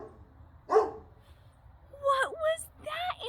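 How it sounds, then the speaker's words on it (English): A dog barks and yips in short bursts, a few sharp calls close and fairly loud, with quiet gaps between them. "What was that animal making that sound? A dog!"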